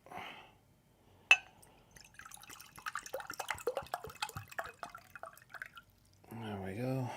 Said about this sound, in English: I'm going to pour myself a glass of water